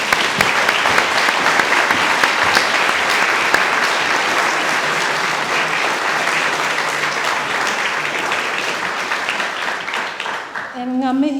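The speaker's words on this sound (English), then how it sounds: "Can we have one more big round of applause for all the winners this afternoon?" A large audience at the 2020 Prime Minister's Science Prize award ceremony gives sustained, loud applause for the winners, filling the whole stretch before it thins out near the end.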